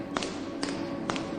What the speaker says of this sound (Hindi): ऊपर की मंजिल से किसी के चलने की आवाज़ आ रही थी